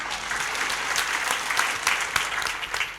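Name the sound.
audience applause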